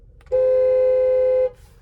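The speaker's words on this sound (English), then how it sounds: "There's the horn." The horn of a 2024 GMC Canyon AT4X sounds once, a single steady loud honk lasting about a second, close and clear with near silence before and after.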